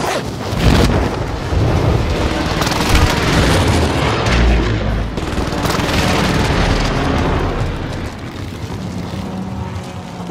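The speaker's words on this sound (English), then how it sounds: "Enemy precision airstrike." Precision airstrike explosions in the Warzone video game boom heavily, with several deep blasts rolling into a sustained rumbling barrage that stays loud throughout before easing slightly at the end.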